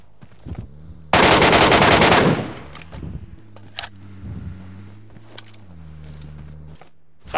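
A long, fast burst of automatic rifle fire from PUBG Mobile, loud and continuous for about a second, followed by quieter in-game clicks and handling sounds over a low background hum.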